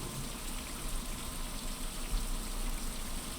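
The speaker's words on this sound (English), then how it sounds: "it means we'll miss out on this rain" Rain falling in the survival game Survival: Fountain of Youth, a steady, soft, even hiss of drops at a constant level, with faint scattered patters and no voices.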